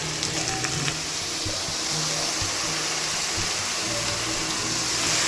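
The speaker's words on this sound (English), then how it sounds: "Hearing the sizzle?" Saltfish and aloo sizzle steadily as they fry in a pan, a close, continuous broadband hiss of hot oil with faint clinks and stirring, no talk.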